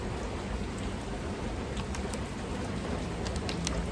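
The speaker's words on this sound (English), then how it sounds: "The rain, it's dying down a little bit more now, but man, it is still the vibe." Steady rain falls across a public park on a wet afternoon, a continuous dense patter with a few brighter drop hits scattered through it, even and unbroken for the whole stretch with no voices.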